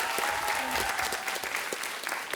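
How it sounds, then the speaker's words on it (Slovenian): An audience gives a burst of applause for a girls' primary school team at a competition, dense clapping that stays steady and loud, with a faint voice mixed in. "En električen aplavz tudi za zelene, osnovna šola Žiri."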